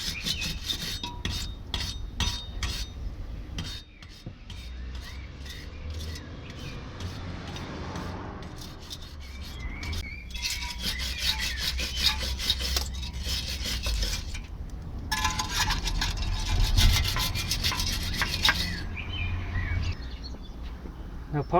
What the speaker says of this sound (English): So just get an old wire brush and scrape away any excess rust from the hub, surrounding area.